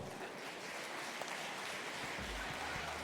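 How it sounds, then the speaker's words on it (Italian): Audience at an Italian event applauding as a guest named Giorgio arrives, a soft, steady wash of distant clapping. "un bel applauso a Giorgio"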